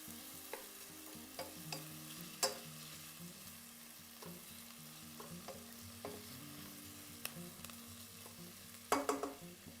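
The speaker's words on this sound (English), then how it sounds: "So we want to saute this over medium heat for about 8 to 10 minutes." Vegetables for tomato soup sauté over medium heat, giving a soft, steady sizzle broken by occasional spoon scrapes and clinks against the pot. The louder clatter comes near the end, and no one speaks.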